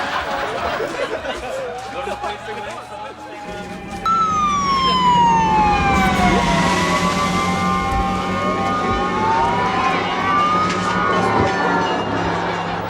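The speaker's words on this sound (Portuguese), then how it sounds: "De repente, aparecem os bombeiros voluntários de Melgaço com os seus caminhões." Fire engines of a volunteer fire brigade arrive at a school fire drill, their wailing sirens rising and falling loudly over crowd chatter and a narrator's voice.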